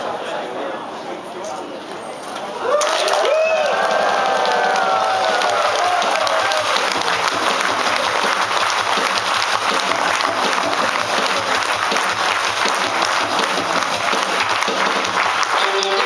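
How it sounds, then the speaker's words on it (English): An audience at a book launch for an autobiography bursts into loud clapping and cheering that starts suddenly after a couple of seconds and continues as a dense, sustained roar to the end. "you all must shout, stand, and clap"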